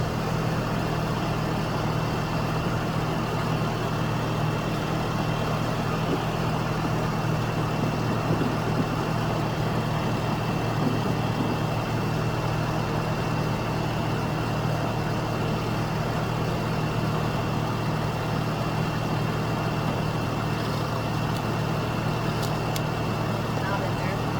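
Chevrolet Trailblazer engine droning steadily at up to 2,200 RPM, a constant low hum held for the whole stretch with no clear rise or fall.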